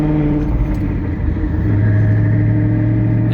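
Steady low rumble of a twin-turbo Mustang Boss 302 engine while driving, loud and continuous from inside the vehicle.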